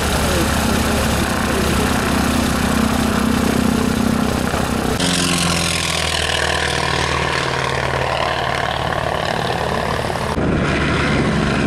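A light propeller aircraft aborting a go-around and landing at an airshow in Sarlat-Domme, a continuous loud engine drone with a shift in pitch midway as it comes down, heard with an announcer talking over it.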